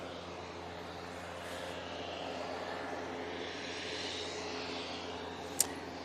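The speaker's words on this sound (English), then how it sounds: "Easyjet coming over here." An EasyJet airliner passes over near Manchester Airport, a steady broad engine roar that swells gently and then fades, moderately distant, with a brief sharp click near the end.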